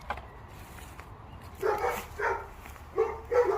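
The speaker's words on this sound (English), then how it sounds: "Dogs are going mad." Dogs bark near abandoned boats by the sea, with bursts of barking that start after a quiet lead-in and come in two or three clustered volleys at moderate distance.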